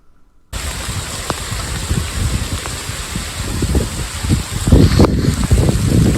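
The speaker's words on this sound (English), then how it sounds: "Looking for some place to get a little drier and out of the rain and weather." Rain and wind on an outdoor fishing trip, heard as a constant wash of rain with gusty rumbling that starts abruptly after a brief quiet moment and grows slightly stronger.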